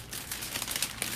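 Wrapping on a DIY baby gift basket being torn by hand, giving a short run of close crinkly rips and crackles with a sharper tear near the end, no talking.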